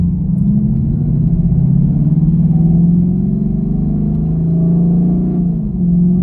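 A V8 Camaro with freshly installed spark plugs and wiring accelerates in first gear, giving a loud, close, continuous engine rumble that climbs steadily in pitch for about six seconds, with no talking.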